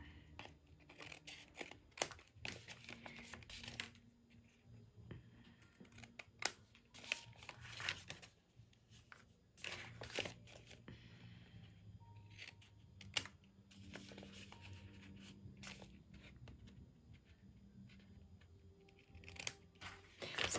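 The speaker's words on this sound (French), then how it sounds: "on y va avec notre petit ciseau" Small scissors snip away excess glue that has squeezed out, a string of sharp, close, quiet clicks and cuts in irregular bursts with no talking.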